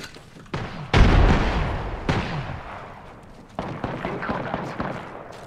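Gunfire in the Apex Legends video game, a sharp loud burst followed by a second report and further shots, mixed with other game sounds while a player talks.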